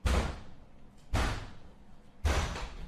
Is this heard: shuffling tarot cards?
no